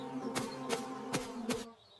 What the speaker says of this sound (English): You will annoy the bees. It's dangerous. Oh no! They are coming!